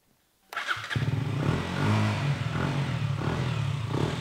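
Motorcycle with a new exhaust and no decat fitted catches and settles into a steady, throaty idle, loud and close after a brief quiet start.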